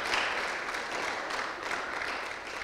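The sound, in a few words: church congregation applause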